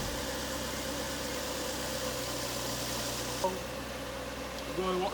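A Nissan 350GT/G35 car engine idles with a steady, low, even hum that runs throughout, with a brief mechanical blip near the middle and another toward the end.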